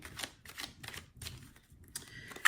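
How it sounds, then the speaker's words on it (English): Soft papery riffling and flicking comes in quick bursts, pausing briefly between shuffles, close by and fairly quiet. "I'm going to shuffle the cards and pull some cards for you."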